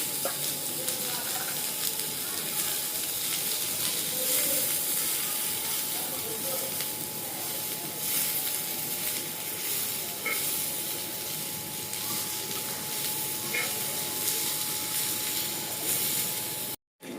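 Onion frying in a little oil on a wood-fired village chulha stove, a steady close sizzle with soft stirring scrapes running throughout, with no talk over it.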